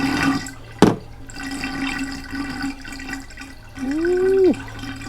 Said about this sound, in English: you should hear some more oil start falling out of the sump